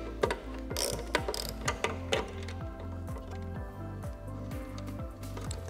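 A ratchet with a 7/16 socket tightens a nut clamping a tie down under a clip during a float assembly for a Kasco AquatiClear unit. It makes a steady, rapid run of close, sharp clicks with no talking.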